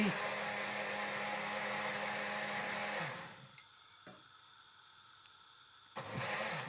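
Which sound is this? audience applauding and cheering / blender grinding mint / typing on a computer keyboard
blender grinding mint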